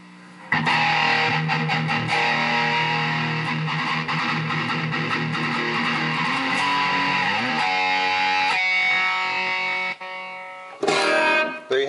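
Loud overdriven electric guitar plays sustained distorted chords and riffs, briefly dropping out near the end before a final crunchy strum.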